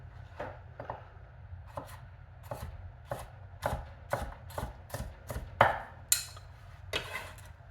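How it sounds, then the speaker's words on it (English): Knife slicing through a bell pepper on a cutting board, a series of crisp, irregular chops and taps close up, some quick in succession, with no talking. "I'm starting the knife cut with the point and then bringing the heel down through."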